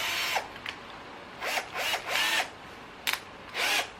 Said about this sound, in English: It's just a wee countersink bit.